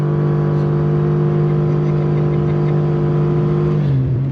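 A loud, steady electric motor whine from a 2022 Karma GS-6 electric car under acceleration, the tone holding level before dropping off at the end.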